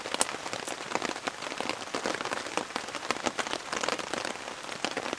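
Rain falls on a camping tarp in a steady, close patter of countless drops, with a few louder splats standing out from the continuous wash and no voices.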